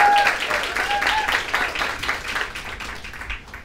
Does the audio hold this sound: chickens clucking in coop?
no